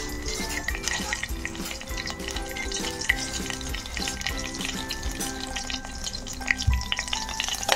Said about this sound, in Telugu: ముందుగా చెక్క, లవంగం, దాల్చిన చెక్క, యాలుక్కాయ, ఒక్క పలావాకు వేసుకొని కొద్దిగా వేపుకుందాం